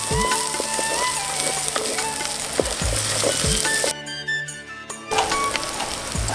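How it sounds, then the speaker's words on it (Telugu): Ginger garlic paste and turmeric frying in oil for a goat or lamb blood fry, a loud continuous close sizzle with stirring scrapes, dipping briefly before the crackle resumes. "అల్లం వెల్లుల్లి పేస్ట్ వేసుకోవాలి పసుపు వేసుకొని పచ్చి వాసన పోయేంత వరకు నూనెలో మంచిగా గోలించుకోవాలి"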